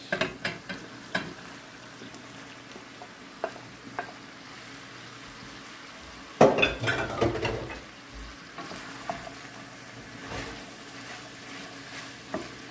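Chicken with onion, red pepper, celery and mushrooms sautés in a pan with a soft continuous sizzle, broken by scattered clicks of stirring and a louder burst of scraping and hissing midway.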